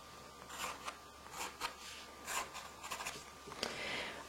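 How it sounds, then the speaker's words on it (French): Pencil drawing short grass lines and veins on paper for a frog illustration, close and faint, a series of quick scratchy strokes at irregular intervals. "Je dessine quelques nervures pour que l'herbe ait l'air un peu plus naturel."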